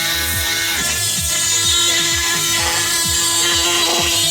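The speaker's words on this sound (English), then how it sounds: "Cutting a Ferrari with a saw meant for wood." A saw meant for wood cutting through the bodywork of a Ferrari 488, a loud continuous power-tool rasp with a steady rhythmic chop of strokes, close and sustained throughout, with no voices.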